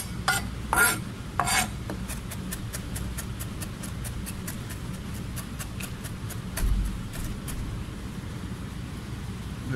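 A kitchen knife chops shallots on a cutting board in quick, evenly spaced taps, a few heavier strokes first, then a long steady run of light cuts.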